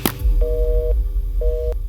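Two steady electronic beeps of a disconnected phone line repeat at an even pace over a low background hum.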